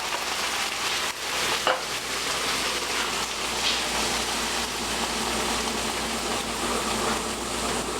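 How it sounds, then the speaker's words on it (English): Canned leaf spinach broken up and mixed in a pan, a steady wet sizzle and crackle running throughout with a brief scrape near the start. "And kind of break it up and mix it up."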